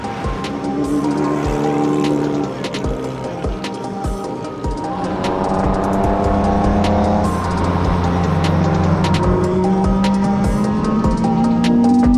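K24-swapped Honda Civic at speed on the Road America circuit, its engine note rising and falling through gears with rapid shift breaks, loud and close, interior drone without talk.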